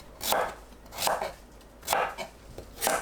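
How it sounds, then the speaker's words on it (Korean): A knife chops through firm, peeled kabocha squash four times at an even, unhurried pace, cutting large chunks, each cut a close, crisp thunk on a board. "1, 2cm 간격으로 큼직하게 대충 썰어주세요."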